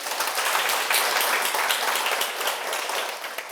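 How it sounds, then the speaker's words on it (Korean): Audience clapping at a Korean talk lecture, dense sustained applause from a crowd, fairly loud and even throughout with no talking over it. "잘 알았으면 박수 한번 치시오."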